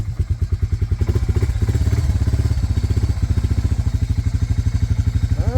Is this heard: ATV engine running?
yes